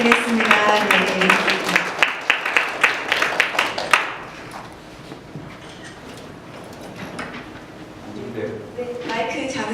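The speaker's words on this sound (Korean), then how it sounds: "큰 박수 부탁드리겠습니다" An audience at a forum applauds a speaker's entrance, rhythmic clapping for about four seconds before fading, then quieter murmuring and a voice talking near the end.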